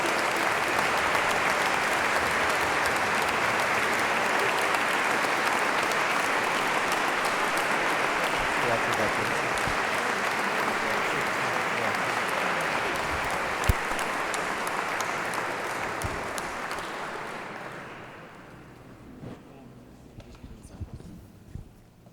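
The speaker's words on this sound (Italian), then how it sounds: "E un grande applauso." Big applause from a concert audience in Col San Martino, a long dense roar of clapping that holds steady and then tapers off into a few scattered claps.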